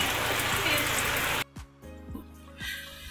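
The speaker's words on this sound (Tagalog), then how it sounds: "Tuloy pa rin kahit maulan." Rain falling outdoors, a dense loud hiss of drops for over a second that suddenly cuts to quieter background with faint patter and a voice speaking.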